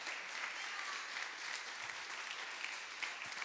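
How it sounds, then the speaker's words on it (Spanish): A church congregation claps steadily, a dense, even wash of applause that holds at the same level throughout. "Alguien puede darle un aplauso fuerte a Dios"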